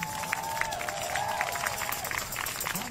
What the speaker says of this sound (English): give her a clap one more time